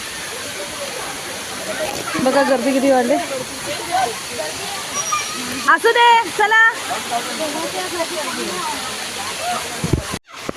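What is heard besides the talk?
waterfall in the colony after heavy rain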